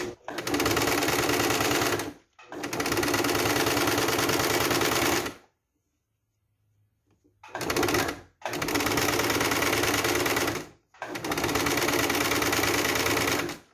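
Elastic shirring thread is stitched on a sewing machine in four loud, rapid-fire runs of clattering stitches with brief pauses between them, the longest gap lasting about two seconds.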